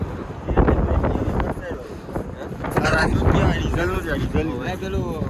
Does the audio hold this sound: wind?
yes